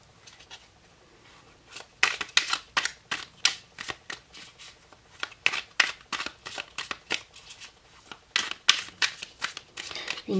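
Tarot cards are shuffled by hand in a series of quick, crisp riffling bursts, close and fairly loud, with short gaps between handfuls and no talking.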